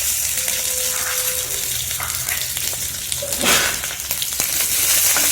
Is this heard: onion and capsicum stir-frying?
yes